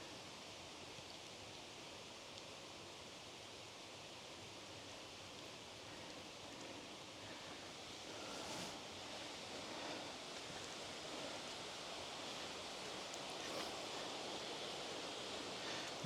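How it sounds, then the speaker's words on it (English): The big waterfall in Dhoon Glen on the Isle of Man pours as a steady broadband rush, even and continuous, swelling slightly in the second half, with no voices. "you get a good view of the top section of the big waterfall"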